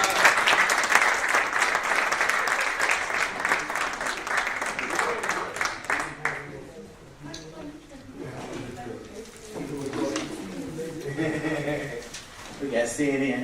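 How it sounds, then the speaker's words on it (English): An audience in the Village of Maywood gives a round of applause for Deborah Vines, a loud dense clapping burst lasting about six seconds before tapering off as a voice takes over amid scattered claps. "another round of applause for Deborah Vines"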